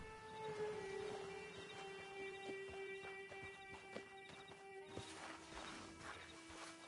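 Horse hooves clip-clop at a steady walking pace in the video game Red Dead Redemption Online, fairly faint under a sustained low tonal hum and background ambience, with no talking.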